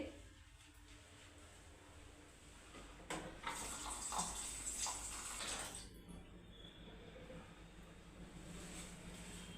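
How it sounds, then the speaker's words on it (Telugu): Water running from a tap into basmati rice for soaking in a home kitchen, a soft steady splashing stream that rises for a few seconds and then settles, faint and fairly distant, with no voices. "ముందుగా ఈ రైస్లో వాటర్ వేసి పదిహేను నిమిషాలు నానబెట్టుకుందామండి"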